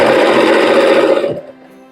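A sewing machine stitches lining onto shawl fabric, running in one loud, steady motor buzz for about a second and a half before it stops, leaving a faint hum.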